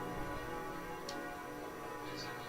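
Church bells ring in a cutscene from the Koudelka video game, faint distant chimes heard twice over a steady background hum, with no talk.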